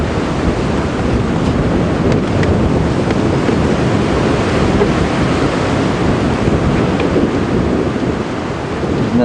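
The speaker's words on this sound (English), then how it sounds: "See the wind really starting to rush now." Strong wind rushes steadily and loudly past the microphone during a morning safari drive at Djuma Game Reserve, a broad continuous roar with no break.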